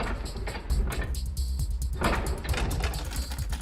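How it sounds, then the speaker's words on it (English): A sewing machine stitches a shoe upper in quick mechanical bursts with short pauses between runs. It sounds close, over a low rumbling background. "At the sewing machine, a seamstress stitches the shoe's upper."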